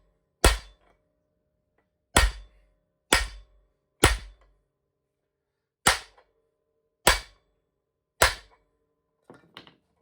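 Seven sharp metallic ball peen hammer strikes ring out one at a time with irregular gaps, each decaying quickly into silence, followed by faint clinks, while working on a 1996 Ski-doo Formula SLS snowmobile.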